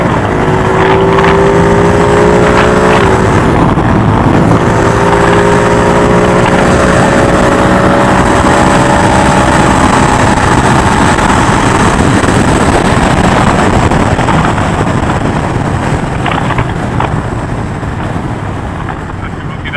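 A motorcycle accelerates around a race track at Dijon, its engine droning loud and steady with rising pitch shifts and heavy wind rush, while an instructor talks over it.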